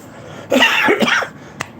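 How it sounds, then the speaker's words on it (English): A single sharp, close cough, followed a moment later by a brief click-like sound, in an otherwise quiet setting. "you got a cough"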